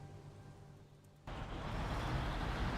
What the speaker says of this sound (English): This truck is a little loud, I will admit.